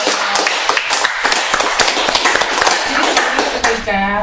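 Renewed applause for two female guests at a film discussion event, dense fast clapping that stays loud and even throughout, ending with a brief tonal sound.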